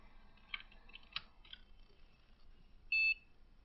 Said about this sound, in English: It will beep when it's powered up.